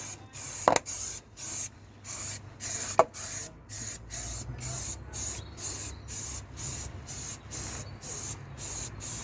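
Aerosol underbody protection sprayed onto the underside of a car in a series of short hissing bursts with brief gaps, close and steady.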